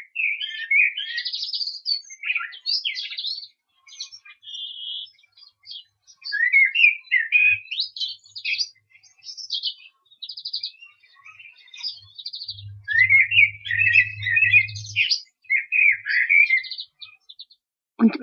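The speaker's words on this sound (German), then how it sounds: "Die Amseln haben gepfiffen." Blackbird song fills the air, with varied whistled phrases from several birds overlapping continuously, fairly close and clear, with a low hum appearing briefly near the end.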